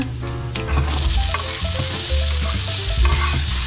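Garlic and onion sauté in a pan for cheesy picadillo, a loud continuous sizzle with stirring strokes and occasional light clinks of the utensil, close and without speech.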